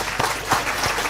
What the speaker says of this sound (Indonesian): Tepuk tangan dulu dong buat kelompok 2.